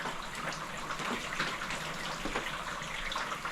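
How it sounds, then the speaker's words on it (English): Water spatters and trickles steadily off a vinyl pergola roof after panel installation, a soft, continuous splashing with scattered brighter drips and no talking. "Water is dripping down here."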